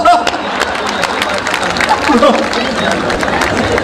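Audience applause for a Hindi comic poet at a live kavi sammelan, a dense steady wash of clapping and crowd murmur filling the whole moment without pause.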